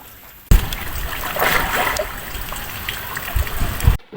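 Water splashes loudly as people dive in, a sudden plunge followed by several seconds of churning, sloshing water close by before it cuts off.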